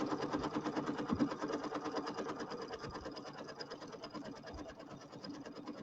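Embroidery machine stitching a border design on fabric, a continuous fast mechanical whir with rapid needle pulses and occasional low thumps, close and steady with no talking.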